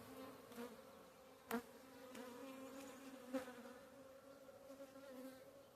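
Honeybees buzzing in an open hive: a faint, steady hum with a few louder passes of individual bees near the microphone.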